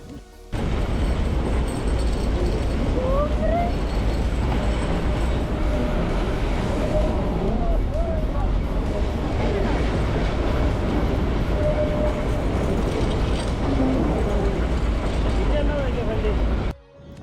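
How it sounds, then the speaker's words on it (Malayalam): The Nilgiri Mountain Railway toy train runs toward Ooty, its carriages giving a continuous loud rumble with steady rail clatter and occasional squeals from the wheels. The noise goes on without a break from start to finish. "ഒരിക്കലും മറക്കത്തില്ലാത്ത ഒരു ട്രെയിൻ യാത്രയാണ് ഊട്ടിയിലെ ഈ ടോയ് ട്രെയിൻ യാത്ര"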